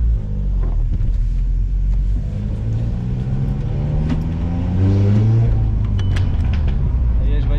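An Audi S1 with a stage 2 tune and full stainless exhaust rumbles loudly and revs, its pitch climbing and falling, with occasional sharp pops and crackles over the engine note.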